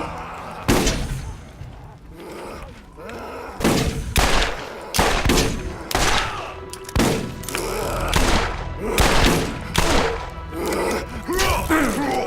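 Repeated gunfire from the looter-shooter Borderlands, with sharp shots in irregular bursts across the whole stretch, loud and close, mixed with groans and other in-game combat noise.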